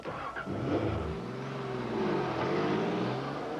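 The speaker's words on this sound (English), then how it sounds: "Nissan 300ZX Turbo." A Nissan 300ZX Turbo engine revs in a loud, continuous roar whose pitch rises and swells over a few seconds, heard alone with no voices.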